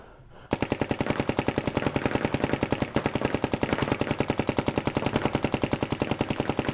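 A paintball gun fires off its remaining paint in a rapid, even stream of sharp pops after a brief quiet start, close and loud at a steady fast rhythm.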